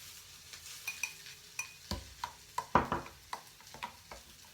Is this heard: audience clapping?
no